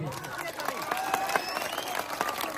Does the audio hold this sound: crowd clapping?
yes